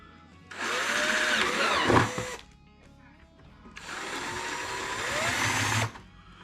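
A power drill bores holes through plastic buckets for chicken feeders in two loud, steady bursts of a couple of seconds each, separated by a short pause with faint handling noise.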